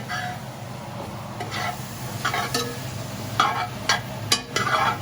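Spoon stirring cream of mushroom soup ingredients with granulated garlic in a pan, soft irregular scrapes and clinks over a faint sizzle, close and fairly quiet.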